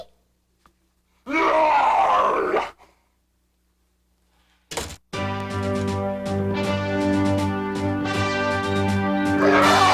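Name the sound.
loud roaring yawn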